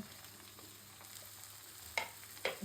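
Onions fry in oil in a pan for a country chicken curry with new potatoes, a faint steady sizzle with a few soft stirring clicks and scrapes near the end.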